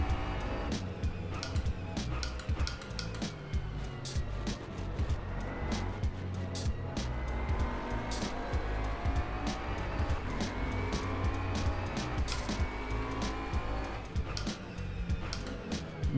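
A Bentley Continental GT3 race car's engine in the rFactor 2 racing simulator: a loud, steady engine note that rises and falls through repeated gear changes, with brief tire and track noises over roughly sixteen seconds.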